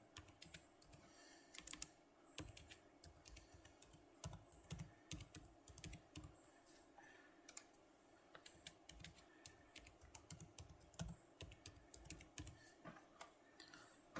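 A password is typed on a computer keyboard as a long run of quick, light key clicks in uneven bursts. The sound is close but quiet, and no one speaks.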